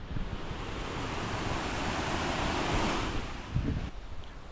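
Waterfall beside the Rawson Lake hiking trail, a steady broadband rush of falling water, fairly close and constant, with some wind buffeting on the microphone.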